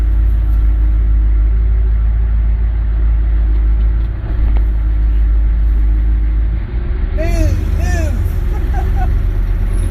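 A two-door pickup truck with an 8-foot bed on 37-inch Humvee tires drives with a constant heavy low rumble, while people talk nearby over the engine drone.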